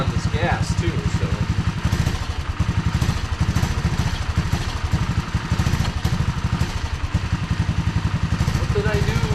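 A Honda ATC185S three-wheeler with a Mikuni carburetor upgrade idles nearby in a steady, lumpy chugging rhythm, moderately loud, with a brief voice heard over it.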